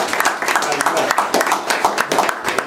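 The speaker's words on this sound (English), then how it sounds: "Give that brother a round of applause for that." A hall audience claps in a sustained round of applause at a religious birthright feast, dense overlapping claps close and steady throughout with no pauses.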